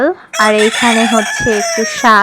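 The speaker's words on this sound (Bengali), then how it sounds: "আমি যখনই ভয়েস দিতে যাই তখনই এই মোরগটা ডাকবে" A rooster crows loudly and close by, with one long crow across most of the moment and a second crow starting near the end, while a person talks over it.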